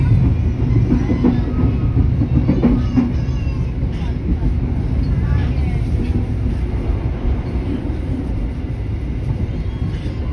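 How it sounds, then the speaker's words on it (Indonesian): Bukit Serelo passenger train running on rails, heard from inside the carriage as a steady, loud low rumble and rattle with faint clicks, continuous for the whole stretch, with some background voices. "Jadi kereta api Bukit Serilo ini telah tiba di Lubuk Linggau ini."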